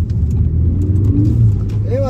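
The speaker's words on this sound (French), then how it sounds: "Accélération à mi-pédale, partant de pluie, en deuxième, en sortie du rond-point." A 2015 Ford Focus ST 250 engine pulls at half throttle in second gear out of a roundabout nearby, its low hum building steadily as the car accelerates.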